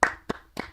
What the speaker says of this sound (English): I need a clapping sound.